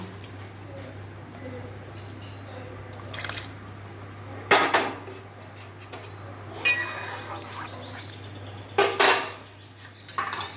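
Lid set on a metal pot of bottle gourd and red lentil dal in a home kitchen, a few sharp clanks and clinks spaced apart over a low steady hum, with a voice talking quietly between them.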